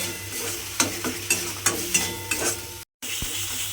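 Chhana cottage cheese fried in a pan while a spatula stirs it, a soft sizzle under rhythmic scraping strokes about every third of a second, with a brief dropout near the end.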